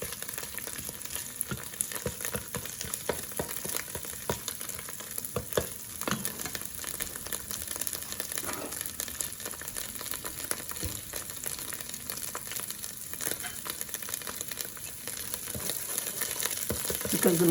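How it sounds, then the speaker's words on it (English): Masala for rajma kidney beans sizzles and crackles steadily in a hot pan, a dense, even frying hiss with occasional pops and stirring scrapes, close up and without talk. "Now you can hear it sizzling."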